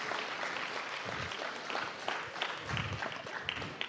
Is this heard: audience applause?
yes